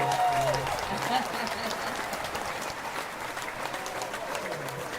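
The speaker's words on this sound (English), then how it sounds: "Just give a hand clap for her." An audience claps for a soul singer at a women-of-soul music event, a steady wash of applause mixed with crowd noise and chatter that holds at an even level throughout.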